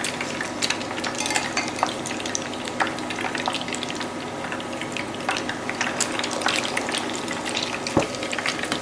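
Keto fish nuggets made from two ingredients fry steadily in hot oil, a dense continuous crackle and bubbling with scattered sharper pops throughout, close and fairly loud with no voices.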